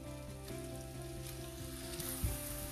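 Onions fry in melted butter in a pan, producing a soft continuous sizzle with a low hum underneath and one brief knock near the end, fairly quiet and steady.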